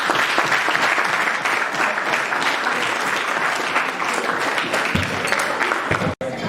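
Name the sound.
audience applauding representatives at a ceremony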